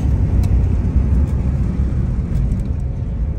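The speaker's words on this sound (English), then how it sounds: "Now there's going to be some wind noise because I got a window rolled down" Inside a 1950 Dodge Coronet driving along with a window rolled down, a loud steady low road and engine rumble mixed with broadband wind rush, continuous with no speech.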